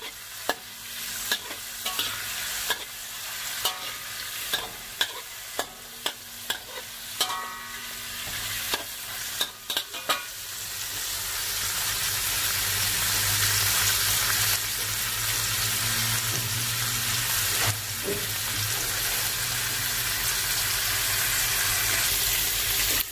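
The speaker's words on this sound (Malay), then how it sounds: "Sekarang masukkan udang dengan lada benggala." Shrimp and bell pepper hit a hot pan for a bean sprout stir-fry, with sharp scraping stirs in the first half before a loud, steady sizzle of frying takes over and continues alone to the end.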